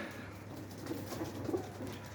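Pigeons coo softly a few times, low and somewhat distant, over a quiet ambient hum.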